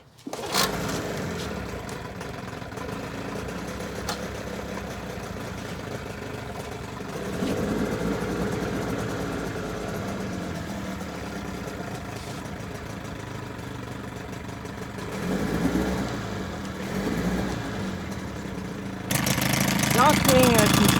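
A 1980 Evinrude 15 outboard motor is choked and pull-started, then runs with a steady mid-pitched drone that swells louder near the end, with a voice talking over it.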